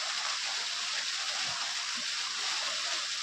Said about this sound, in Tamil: போர் தண்ணி பாருங்கள் எந்த அளவுக்கு தண்ணி கண்டினியூவாக நமக்கு போர்லேருந்து வருதுன்னா.